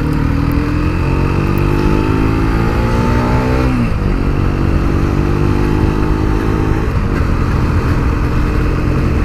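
A Mondial Hipster 125 motorcycle rides around a roundabout, its engine droning loudly and continuously with rising and falling revs as the rider shifts and accelerates, heard up close with wind noise.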